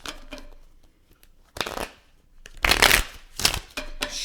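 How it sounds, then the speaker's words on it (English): Tarot cards being shuffled by hand: soft riffling bursts, close and crisp, starting faint, then a few stronger flurries of slapping card edges, no talking. "Shuffle them all up together. Shuffle them all together."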